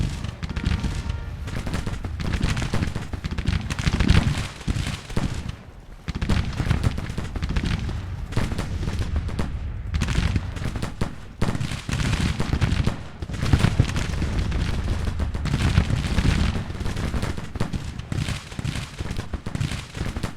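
Sustained volleys of rifle and musket fire from soldiers in a Civil War strategy game, loud and dense for about twenty seconds with overlapping cracks, brief lulls and bursts of crackling fusillade.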